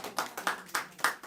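Audience applause after a Hindi poetry recital at a casual gathering, heard as a short burst of clapping with several distinct loud peaks, fairly close, with no talk over it.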